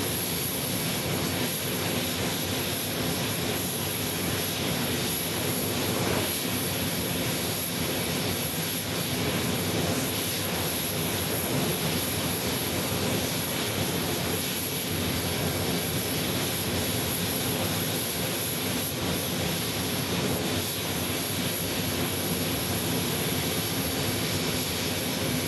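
A Porter Airlines airliner at Phoenix Sky Harbor Airport gives a steady, loud engine roar with a broad hiss that holds unchanged for the whole stretch, no voices over it.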